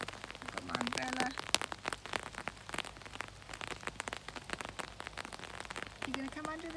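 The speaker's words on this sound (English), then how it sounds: "It's raining." Rain patters steadily on an umbrella at a park in Scotland, close irregular drops tapping throughout, with a short voice-like sound near the start and again at the end.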